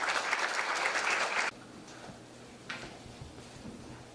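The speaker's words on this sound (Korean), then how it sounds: "박수로 환영합니다." Audience applause welcoming Professor Han In-seok to the stage at an academic event, a loud burst of clapping for about a second and a half that cuts off abruptly into quiet room tone.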